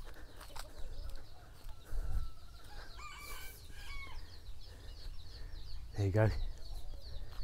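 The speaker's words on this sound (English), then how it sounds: "All the ducks are back in the pen" Ducks in a pen beside a rice field quack and chatter at close to moderate distance, a scattered cluster of calls with one louder burst near the end, under a brief spoken remark.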